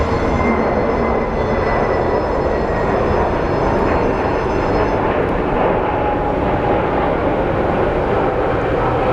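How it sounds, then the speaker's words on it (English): A Spirit Airlines airliner climbs away in a steep takeoff at Phoenix Sky Harbor International Airport, its loud, steady jet roar filling the scene with broadband rumble and no pauses. "that is a steep, steep takeoff for the Spirit"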